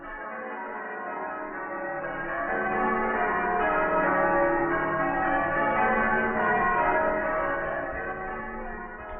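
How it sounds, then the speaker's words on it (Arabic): Christmas church bells ring continuously in a radio drama, a dense, sustained metallic peal that swells in the middle and eases slightly toward the end, with no voices over it. "أجراس الكريسماس يا ذئب، أجراس الكريسماس"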